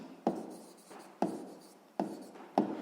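A pen writes down an answer to a sixth-grade math exercise: four faint, evenly spaced scratchy strokes, each starting with a small tap and trailing off, with no talking.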